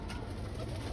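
Pigeons coo softly and continuously at close range, a low murmuring burble from birds settled nearby, with steady faint background noise and no talking.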